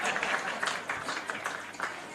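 Audience applause for a speaker at a membership month launch in Uganda, a short burst of scattered clapping with uneven claps and possible background voices mixed in.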